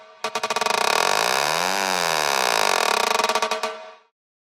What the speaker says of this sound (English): But if you run it through an arpeggiator and automate the rate, you get this cool effect.